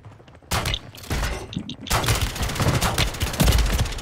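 Bursts of rapid gunfire in Call of Duty: Warzone, loud overlapping shots that grow denser and keep going after a brief lull.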